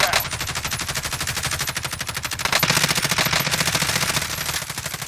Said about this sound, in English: Shoot them, shoot them!